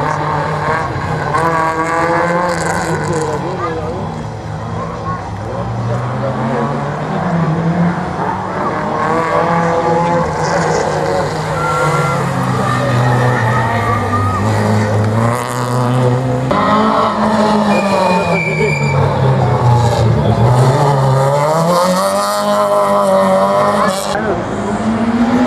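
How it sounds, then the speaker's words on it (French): A Renault Clio Williams racing through a slalom course, engine revving hard and swooping up and down as it shifts and brakes, with tire squeal and a commentator talking over it throughout. "dans la classe 3, on retrouve Vincent Blanc volant de la Renault Clio Williams"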